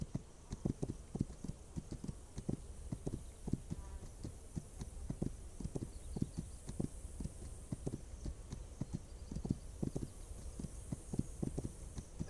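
Steady rhythmic clip-clop of horse hooves in the video game This Land is My Land, a regular even trot that stays fairly quiet alongside a soft background hum.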